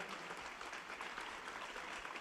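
A papal audience crowd applauds, a continuous dense wash of distant clapping that stays steady and fairly faint throughout.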